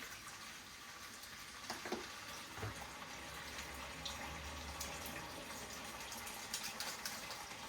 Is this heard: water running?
yes